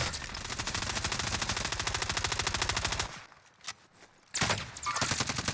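Warzone video game gunfire: a long, loud burst of rapid automatic fire, a short lull with a few scattered shots, then another rapid burst.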